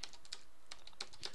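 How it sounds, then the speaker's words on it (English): Rapid typing on a computer keyboard while setting up a Java networking applet, a steady run of close, crisp key clicks with no talking. "I might as well not talk and just go ahead and start typing."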